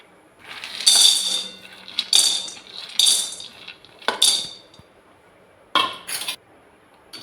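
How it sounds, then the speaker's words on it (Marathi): Peanuts roasting in a kadai rattle and clink in bursts as they are stirred, with five or six distinct scraping, jingling passes and near-quiet between them. "आता हे शेंगदाणे ते थोडं भाजून घेऊ आपण"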